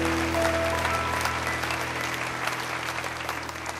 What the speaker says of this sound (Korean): 소리에게 큰 박수 드릴까요?